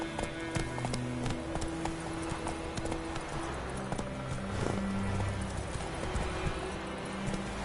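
Roach, the horse in The Witcher 3, gallops with fast continuous hoof clip-clops at a steady rhythm, close and busy over a low rumbling game backdrop.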